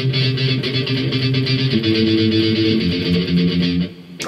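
Palm-muted electric guitar chugs through the verse of a song, with tight repeated low notes shifting between chords, played close and fairly loud and stopping near the end.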